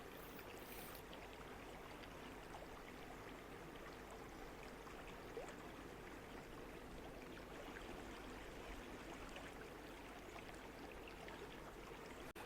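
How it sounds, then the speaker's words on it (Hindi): A small natural mountain stream flows steadily nearby on a pilgrimage trek from Gaumukh, its broadband rushing and trickling water continuous and even throughout with no voices. "रास्ते में मेरे को मिला है एक छोटा सा नेचुरल वाटर स्ट्रीम"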